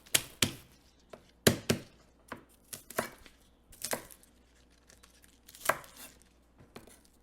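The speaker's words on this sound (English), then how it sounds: "Need garlic and bok choy. We cut in this way." A knife chopping bok choy on a cutting board, with a series of sharp, close thuds at an uneven pace, loud at first and then softer and sparser.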